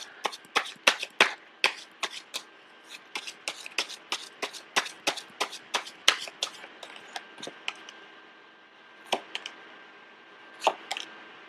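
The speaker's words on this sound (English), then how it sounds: "I was sensing that when I was shuffling the cards" Tarot cards are shuffled over and over, making quick rippling riffles and soft taps in an irregular rhythm, close and fairly quiet, with no talking.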